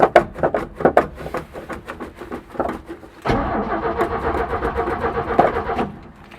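A 1967 Chevy C10 engine cranks in a rhythmic, labouring pattern of starter pulses, then catches briefly into a rough, uneven run before fading, heard up close without talk.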